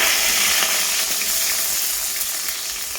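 A steady, loud sizzle of onions and bay leaf frying in hot oil crackles continuously up close, with faint clinks underneath and no talking.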